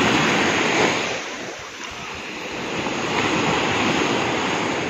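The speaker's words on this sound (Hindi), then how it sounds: "ये मैं खूबसूरत समंदर का आप लोगों को आवाज़ सुनवाती हूँ" Ocean waves on a sea shore in Turkey wash in as a steady, loud broadband roar that dips briefly before swelling again, with no voices.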